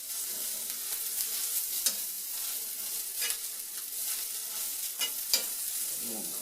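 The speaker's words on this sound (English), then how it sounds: "I got that andouille sausage there. See, brown down real good." Andouille sausage browning in a pan for Cajun jambalaya, a soft continuous sizzle with intermittent scraping and clicking as a utensil stirs the pieces, fairly quiet and close.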